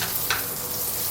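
Star anise, bay leaf, Sichuan peppercorn and a cinnamon stick fry in a pan with a brief, dense sizzle, and a single quick stir scrapes through it.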